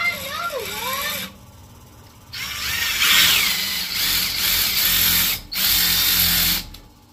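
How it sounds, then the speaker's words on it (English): A loud impact drill whines in bursts drilling holes in stainless steel, stopping and restarting several times with brief quiet gaps, close by and harsh. "we're gonna use an impact drill"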